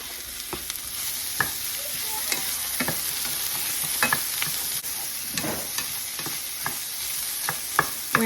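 Smoked sausage sizzles with browning onions in a frying pan, a steady close crackle broken by scattered stirring knocks and scrapes, with no talking.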